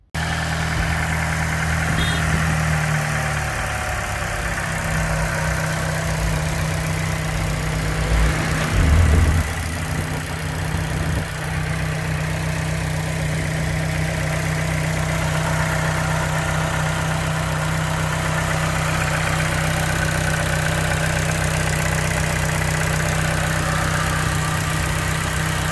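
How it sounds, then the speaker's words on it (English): A car engine idles steadily after start-up on a warm day, a constant low hum with a steady tone, close and loud and unbroken, with a brief bump of handling noise partway through. "going to start the car up and let it run for about 2 to 3 minutes"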